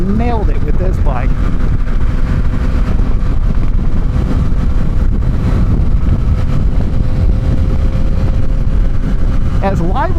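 A Yamaha XSR 900 motorcycle in retro yellow and white rides along, its engine a continuous low drone with rising revs at the start and end, buried under heavy wind rush.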